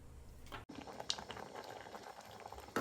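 Rice cooking for sweet pongal bubbles steadily in a heavy pot, a soft continuous simmer with small pops, close and fairly quiet, with no talk over it.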